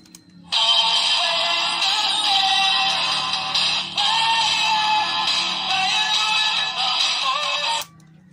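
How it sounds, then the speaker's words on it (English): Music plays back through the small speaker of a Sony TCM-400 cassette recorder, a thin, bright tune that starts abruptly, runs steadily and cuts off, with a quiet pause on either side. "So that's the sound of this cassette recorder."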